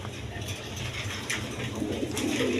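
Pigeons coo steadily at a pigeon farm, low murmuring calls layered over a dense, continuous flock background at moderate loudness, with no voices.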